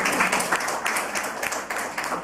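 Crowd applause at a church service held in a women's prison in Bandung, with dense continuous clapping throughout the short stretch.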